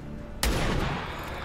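A single sharp gunshot blast cracks out suddenly in the video game XCOM 2, followed by a rumbling echo that fades over about a second.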